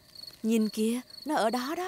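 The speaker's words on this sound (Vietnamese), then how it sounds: "Đó là tiếng kêu của những chú dế đó con." Crickets chirp at night during an outdoor outing in a Peppa Pig cartoon, a steady high-pitched trill running beneath voices that talk throughout.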